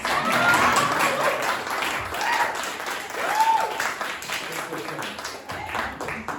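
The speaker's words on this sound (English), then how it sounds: "I'll take one more round of applause, thanks." Audience applause at a live music performance event, a continuous wash of clapping with cheers and whoops rising above it throughout.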